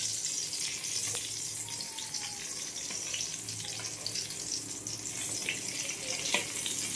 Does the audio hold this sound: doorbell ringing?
no